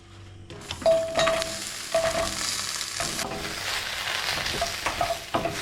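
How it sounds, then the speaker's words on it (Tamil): Cut okra sautéing in hot oil in a pan, with a continuous loud sizzle and repeated clanks and scrapes of a spoon stirring against the metal. "வெண்டைக்காயெல்லாம் கட் பண்ணி வச்சுருக்கிறேன் அப்போ வதக்கி எடுத்துக்கலாம்"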